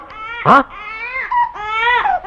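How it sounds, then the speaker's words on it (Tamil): An infant wails loudly and close up, a few short, rising and falling cries with a sharp sob-like catch between them, heard in a film scene. "குழந்தையின் அழுகுரல் சத்தம்"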